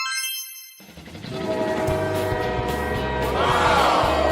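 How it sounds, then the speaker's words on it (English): A cartoon train for Peppa Pig's shooting star train starts up after a brief hush, a loud sustained rumble with ringing horn-like tones that swell toward the end. "It lands and turns into a glowing train in their yard."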